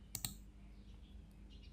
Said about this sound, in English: right click here, then open with App Center